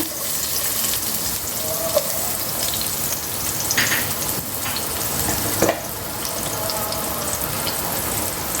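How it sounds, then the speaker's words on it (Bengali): Onion frying in a small amount of oil in a pan while cooking jute leaves with lentils: a steady, dense sizzle runs throughout, with a few brief clinks partway through and no talking. "পেঁয়াজ দিয়ে দিব আমি এখানে একটা।"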